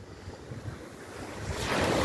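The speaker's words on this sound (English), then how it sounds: "But the waves are very heavy." Heavy ocean surf breaks on a Jamaican beach ahead of a hurricane, a continuous rushing roar mixed with wind noise that swells louder toward the end.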